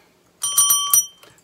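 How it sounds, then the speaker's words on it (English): A little bell is rung in a quick burst of several bright, ringing strikes close by, followed by a softer final ding as the tone fades out, with no voice over it. "We are going to be ringing our little bell,"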